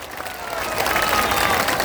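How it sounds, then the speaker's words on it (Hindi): An audience at a political speech in India claps loudly, a dense wash of applause that swells and holds steady for a couple of seconds. "तो बजाइए जोर से ताली"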